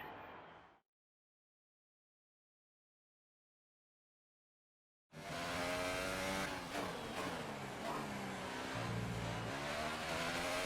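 After a short burst and several seconds of silence, a racing car engine in the video game F1 2018 roars loudly and continuously, its pitch rising and shifting.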